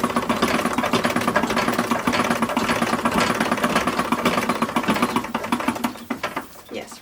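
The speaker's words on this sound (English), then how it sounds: "I'm just going to top stitch this on top of the lining." A sewing machine top-stitches fabric onto the lining of a porcelain doll's dress with a fast, steady mechanical whirr, loud and close, slowing and stopping near the end.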